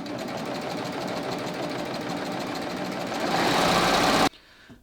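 A BabyLock Ovation serger stitches at speed with a rapid, steady mechanical chatter that grows louder near the end and then stops abruptly, leaving quiet.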